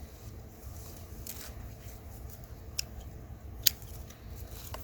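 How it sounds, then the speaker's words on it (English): Pruning shears snip vegetable plants off at the base during a fall garden harvest, a few faint, sparse clicks and cuts over a low outdoor rumble, with one sharper snap standing out. "We're cropping out, as with everything, we just snip off at the base"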